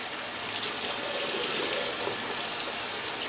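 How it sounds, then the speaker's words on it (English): Tap water runs steadily into a sink while a shaving brush is rinsed under it, a continuous close splashing rush with no talk. "So I'm washing off the brush"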